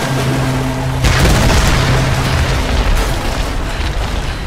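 A loud explosion booms in the Tomb Raider video game, a sudden broadband blast that rolls on as a dense rumbling roar for several seconds, with a second burst near the end.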